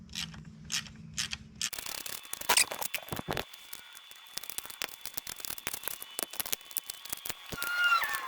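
A hand ratchet removes the water pump cover bolts on a Honda TRX450R ATV. Quiet, close clicking of the pawl comes in quick runs with brief pauses between them, along with a few metallic taps and handling noises.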